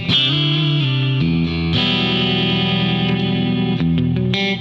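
An electric guitar on a default clean preset with compression plays sustained chords and notes, with even, loud, smoothly held tones and a chiming shimmer and no talk.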